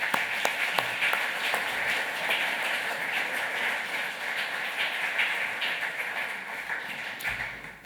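Audience applause welcoming a professor onto the stage at a public lecture on democracy, a steady wash of many clapping hands sustained for several seconds, fairly close and dense, alone without talk.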